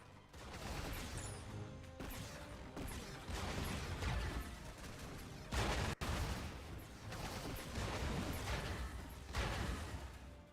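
Shooting down an elite airship in Skylanders: Spyro's Adventure, a loud run of rapid blasts, clanks and crashing impacts with mechanical clatter, continuous and close.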